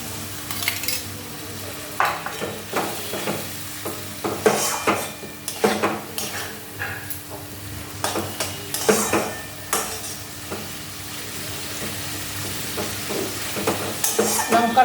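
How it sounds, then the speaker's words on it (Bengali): A spatula scrapes and taps a pan as a spice paste with green and Kashmiri chili is sautéed for a fish curry, giving uneven strokes over a low steady sizzle. "এটাকে একটু কষিয়ে নিতে হবে ভালো করে"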